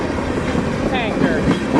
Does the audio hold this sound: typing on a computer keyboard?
no